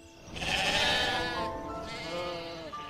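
A sheep bleats loudly and close by in one long, wavering cry that dips and then rises again. The call sounds alone, with no talking over it.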